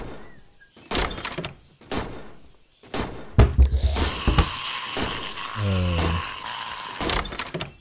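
Door closing in the survival game Zompiercer: a run of separate heavy thunks and mechanical clanks, then a longer grinding, sliding rumble with metallic rattling, loud and close.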